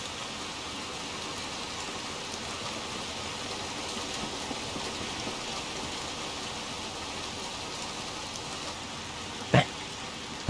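Steady, even rainfall hisses throughout a scene in the video game Little Nightmares 2, with one brief sharp click near the end.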